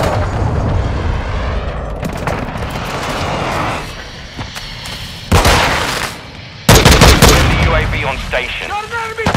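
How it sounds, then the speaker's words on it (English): Loud booming blasts and crackling explosions from a cruise missile strike in a first-person shooter video game, arriving in heavy bursts after a stretch of distant rumbling gunfire, with a radio-style voice speaking over the action. "Friendly cruise missile deployed."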